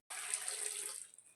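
Water poured into a pot of jackfruit being cooked: a single short, bright rush of liquid that starts abruptly and tapers off after about a second, close and alone.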